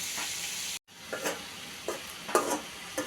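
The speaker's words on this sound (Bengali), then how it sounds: "দিয়ে দিচ্ছি কেটে ধুয়ে রাখা আলু" Cut potatoes added to frying onions and shrimp in a hot pan, a close sizzle that briefly cuts out, then resumes with several spatula scrapes and stirs, no talk.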